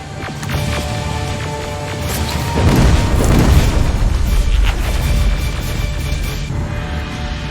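Deep booming rocket blasts rumble through the final battle in Terminator Resistance's future war. Low rolling explosions swell in the middle and sit over a constant mechanical background din.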